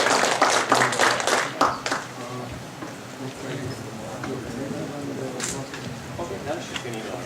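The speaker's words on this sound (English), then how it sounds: "Let's give them a round of applause." Audience applause after a talk on legal issues for startups, with brisk clapping at the start that fades within a couple of seconds and gives way to murmuring voices and chatter.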